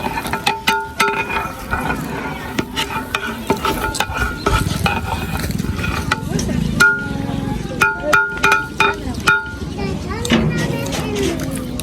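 Rice is stirred and mixed in a pot with a scraping utensil, giving repeated clattering scrapes and clicks in an irregular rhythm while people talk nearby in a village setting.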